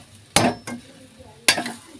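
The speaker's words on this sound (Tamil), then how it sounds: "நல்லா கிளறிக்கோங்க." Rice being stirred in a cooking pot with salt added, heard as a few close, brisk scraping strokes: two quick stirs, a pause, then another stroke, with no talk.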